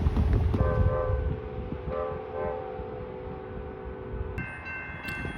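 Rumbling rail traffic as three trains pass, including BNSF's Southwest Chief and Metra, with steady tonal horn blasts, a long held horn note joined by higher ones near the end, no talking.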